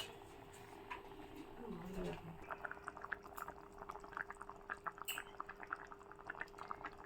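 Chicken and potato curry bubbling in a covered pot, a faint steady simmer with soft irregular popping bubbles and a low hum, a voice briefly audible early on.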